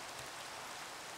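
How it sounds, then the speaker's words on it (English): Steady rain falling in Minecraft, a soft continuous hiss of drops spread evenly across the clip, fairly quiet, with no talking. "It's flipping rain that's driving me up the wall."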